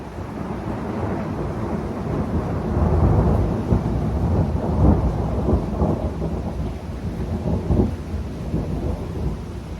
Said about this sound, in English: Have you ever heard thunder that long?